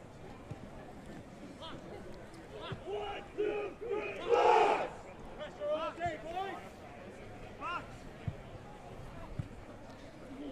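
New Zealand Australian-rules football team performing a haka before a match against Canada at the Waverley Blues ground, rhythmic shouted chants and stamps from a group, with crowd noise around them and a louder peak midway.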